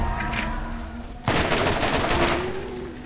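A shotgun fires in Borderlands, one loud, sudden blast about a second in with a crackling tail that fades over the next second and a half, after a quieter stretch of game noise.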